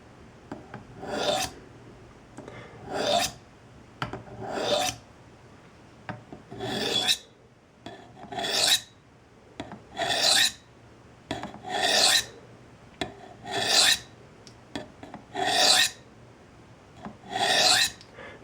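A knife blade is sharpened against the unglazed rim of a ceramic coffee mug, giving about ten even, rasping strokes at a steady rhythm with short pauses between them, close and clear with no talking.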